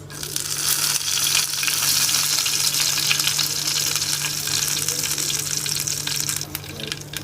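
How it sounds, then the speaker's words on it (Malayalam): Curry leaves crackle and sizzle in hot coconut oil with mustard seeds, a loud continuous frying hiss with scattered pops lasting the whole stretch, close by in a home kitchen. "നമുക്ക് കുറച്ച് കറിവേപ്പില ഇട്ട് കൊടുക്കാം."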